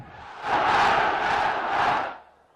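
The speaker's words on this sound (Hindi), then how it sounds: "जिसको उम्मीद है इमरान खान से, वो मुझे नारे का जवाब दे" A large crowd at a political rally roars a shouted slogan response in unison, a loud sustained collective yell lasting about two seconds.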